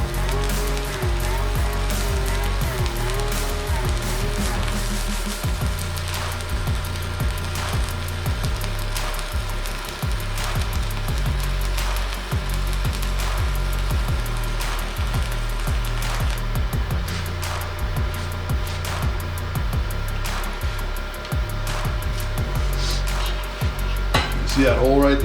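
Welding on a stainless steel tree, a steady loud hissing and crackling buzz that runs continuously throughout with a low hum underneath, up close, with a voice speaking over it at times.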